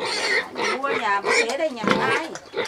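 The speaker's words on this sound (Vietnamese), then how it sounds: "Con lợn nái này to phết nhỉ." A large sow grunts and oinks repeatedly at close range on a village farm, giving a run of throaty grunts while a person talks over them.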